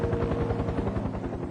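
A rescue helicopter during wartime makes a steady rapid rotor thumping that stays even and continuous throughout, heard from a distance as a dense mechanical drone.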